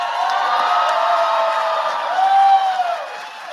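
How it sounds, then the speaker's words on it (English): Audience at the Enactus United States 2022 National Exposition cheering and whooping, a loud sustained crowd roar with voices rising and falling. "Now that's my kind of applause right there."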